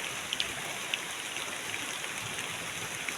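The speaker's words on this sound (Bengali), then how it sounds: "বৃষ্টির শব্দ শুনে তো বৃষ্টির ফুটা পড়ছে যে বৃষ্টির ফুটা পড়তেছে বৃষ্টি হচ্ছে এখন" Steady rain falling in rural Manikganj, Bangladesh, a dense even patter with occasional nearby drips, fairly faint and with no voices.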